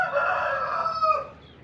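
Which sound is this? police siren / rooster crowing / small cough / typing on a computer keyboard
rooster crowing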